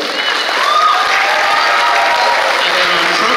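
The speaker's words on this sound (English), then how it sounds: "How about give a round of applause for Mr." A mariachi performance audience claps and cheers for a senior member of the group, a dense, steady wash of applause filling the whole moment, with a faint voice underneath.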